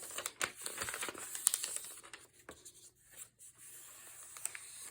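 A sheet of vellum paper being folded in half for a junk journal, soft close crinkles, rubs and brief creasing swipes, fairly quiet with gaps between.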